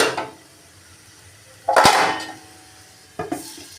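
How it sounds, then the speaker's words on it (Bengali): A metal lid set onto a cooking pot of dal and vegetables: one loud clanking rattle, then a second shorter clink a moment later, close by and without speech. "ঢেকে দেব।"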